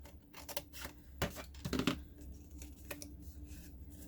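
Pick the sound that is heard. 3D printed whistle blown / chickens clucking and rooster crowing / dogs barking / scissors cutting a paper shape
scissors cutting a paper shape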